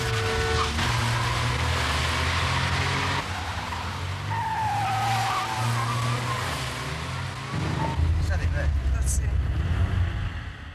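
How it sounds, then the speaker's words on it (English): Tyres screech as a getaway car, a Ford Escort, swerves sharply through Oxford Road traffic and nearly hits another car, with loud skidding and engine noise under dramatic sound throughout. "The robbers swerved into Oxford Road,"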